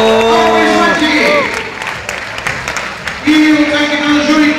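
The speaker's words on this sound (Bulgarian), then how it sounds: "Аплодисменти!" Spectators at a 2010 Bulgarian NBL All-Star slam dunk contest clap and cheer, the broad crowd noise holding steady while a loud voice carries over it at the start and again near the end.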